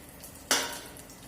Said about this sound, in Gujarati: હવે આપણે વઘાર કરી દઈશું.